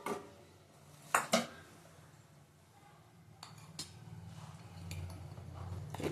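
A metal wok (kadai) is set onto a kitchen stove: two quick, close metallic clanks near the start, then a low, quiet room hum with faint shuffling of cookware.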